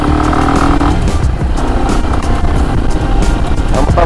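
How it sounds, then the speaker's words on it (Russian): A Ranger RC300 GY8 motorcycle rides along a forest road, its engine droning loud and close throughout, with steady rumble and shifting throttle over rough ground. "как на мотоцикле будет удобно пересекать вот такие вот местности"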